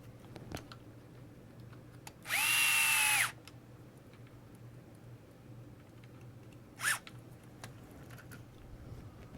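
Power driver running in one short burst of about a second to drive a sway bar fastener on a Twin Hammers rear sway bar install, followed later by a brief second blip, with quiet workshop background between.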